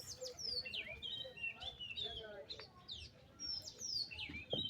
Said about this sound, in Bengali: এই যে এখানে জাংলার মধ্যে কবুতর বসে আছে, এই যে আমাদের বাড়ির কবুতর